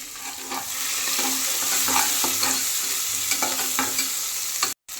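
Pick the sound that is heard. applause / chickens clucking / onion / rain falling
onion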